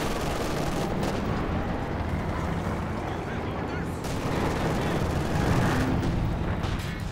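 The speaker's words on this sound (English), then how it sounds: "Machine gun ripping into the Zis here" Sustained machine gun fire in Company of Heroes 2, raking a ZiS gun position, rattling loudly and continuously amid dense battlefield noise with a burst of extra intensity near the end.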